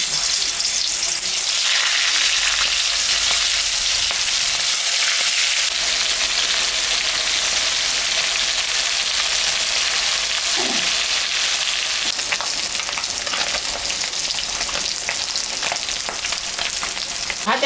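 Boal fish frying in hot mustard oil, a loud continuous sizzle and crackle of spitting oil that holds steady from start to finish, close up.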